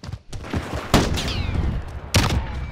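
Rapid gunfire from the shooter Call of Duty: Modern Warfare, a handful of sharp close shots spaced through a short burst, with quieter clatter between them and no talk.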